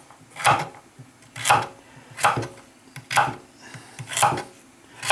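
A knife slicing food lengthwise on a cutting board, six evenly spaced chopping strokes with crisp board contact, close and clear, with no talking.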